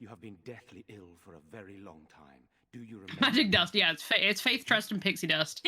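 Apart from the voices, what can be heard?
No everyday noise stands out behind the speech.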